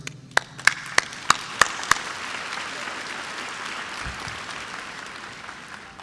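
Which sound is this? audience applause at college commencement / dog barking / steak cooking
audience applause at college commencement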